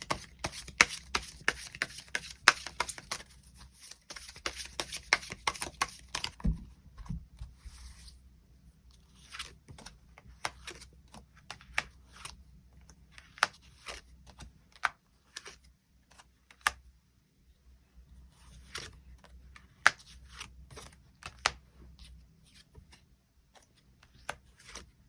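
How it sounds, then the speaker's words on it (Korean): Tarot cards are shuffled and drawn in a steady run of crisp flicks and taps, dense and rapid early on, then sparser slides and placements, close and fairly quiet with no talking. "새로운 뉴페이스의 등장이 있을지도 추가 카드 뽑아보도록 하겠습니다."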